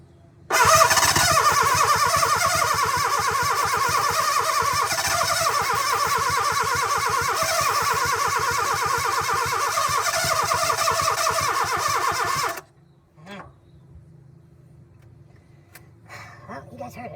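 The starter of a 1972 Plymouth Cricket cranks the engine in one long, loud, steady rhythmic churn of about twelve seconds, then cuts off into near quiet with small clicks and movement.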